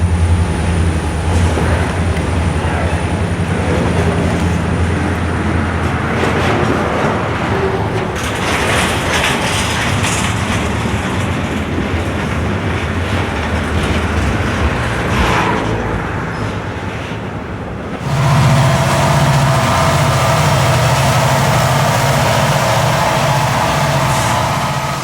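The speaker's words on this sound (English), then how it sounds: "An eastbound train of double stacks gets underway out of Crescent behind a 2-unit lash-up of GM wide cabs." A Conrail eastbound double-stack freight train pulls out behind two GM wide-cab diesel locomotives, a loud steady engine roar with rumbling wheel and track noise near the listener, shifting in tone partway through as the train moves past.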